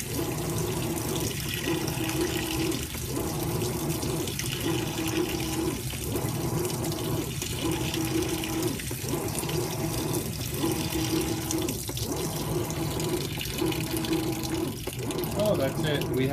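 Water pouring steadily into a Whirlpool Cabrio top-load washer, a constant rushing fill with faint rhythmic pulses, while people talk over it.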